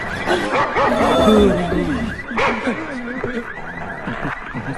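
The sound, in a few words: dog barking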